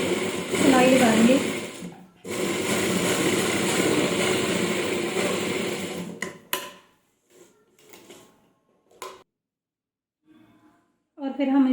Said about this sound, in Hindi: यहाँ पर सिलाई लगाएंगे।